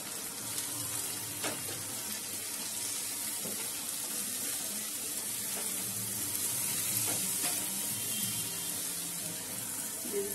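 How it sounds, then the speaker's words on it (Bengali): Spice paste of Kashmiri chili powder and coriander powder sizzles steadily in a pan for a Bengali mixed dal tarka as water goes in, a continuous close hiss and bubbling with no talking. "দিয়ে দিচ্ছি একটু জল মশলাটা কষানোর জন্য"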